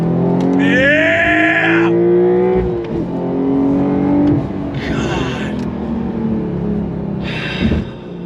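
Porsche 911 Carrera T pulling hard in second gear, its engine note rising loud and close through the rev range, with a shift and a brief lift around the middle, while people talk excitedly over it.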